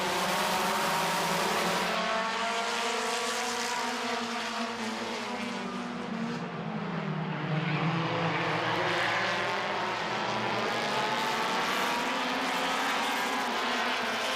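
Race cars lap Midvale Speedway during a heat race, a continuous roar of engines rising and falling as the field passes, with one swelling pass near the middle; steady and loud throughout.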